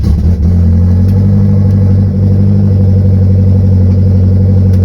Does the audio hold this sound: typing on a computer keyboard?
no